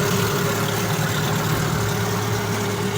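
An 8hp Suzuki outboard motor idles, a steady, even mechanical hum with a constant buzzing tone that holds unchanged throughout, close and fairly loud with no voices.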